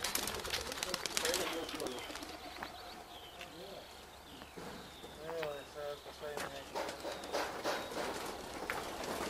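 Pigeons cooing and calling among people talking close by, with clattering and handling noises throughout as the birds are checked and gathered.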